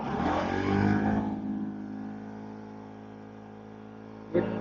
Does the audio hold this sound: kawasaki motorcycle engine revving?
yes